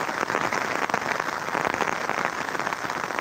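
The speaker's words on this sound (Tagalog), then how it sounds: "sobrang lakas ng ulan na may kasama pang kulog at kidlat" Heavy rain from a storm with thunder and lightning pounds down during a live outing, a dense, steady hiss of drops striking nearby surfaces that stays loud throughout.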